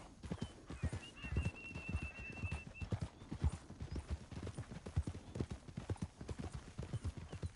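Horse hooves clip-clopping at a steady walking rhythm in the video game Red Dead Redemption 2, close and fairly quiet, with a faint whinny-like tone briefly early on.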